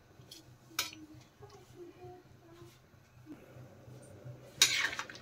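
Potatoes are stirred in a pan as they steam lightly, a spoon giving scattered scraping clinks and taps against the metal, with a sharper clatter near the end and a low background hum.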